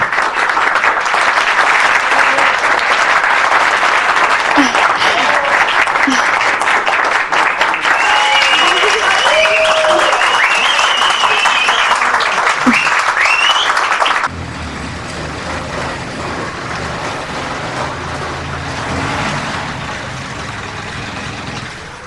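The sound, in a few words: audience applause after stage song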